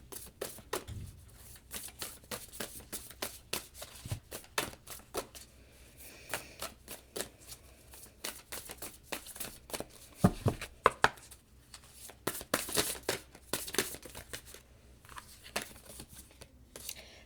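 Oracle cards being shuffled by hand: a long, steady stream of crisp riffling and slapping card sounds, close and fairly quiet, with occasional louder taps as the deck is squared.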